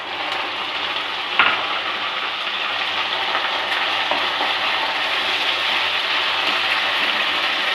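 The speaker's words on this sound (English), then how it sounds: "I'm cooking this masala for 3 to 4 minutes like that on medium flame." Onion and green masala paste fry on medium flame in a pan, a loud continuous sizzle with a sharp clatter early on and occasional faint stirring scrapes, no voices.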